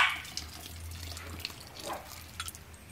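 Wort drains from the mash during all-grain American IPA brewing, giving a soft, steady trickle of liquid with faint drips over a low background hum.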